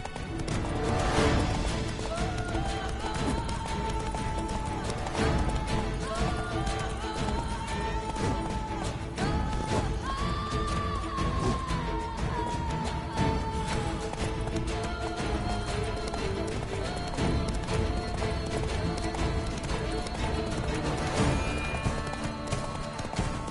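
Roach the horse gallops in a video game with steady, rapid clip-clop hoofbeats, accompanied by occasional whinnies and a continuous loud background of music and effects.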